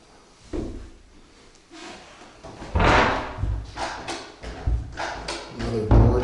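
An old house door with a swollen frame and a latch is worked by hand, giving a series of close thumps, bumps and rattles that grow louder toward the end, with no speech.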